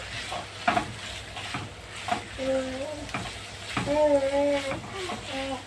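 Chicken and onion frying together in a pan, crackling steadily with scraping stirs and utensil clinks, while someone speaks and hums over the cooking.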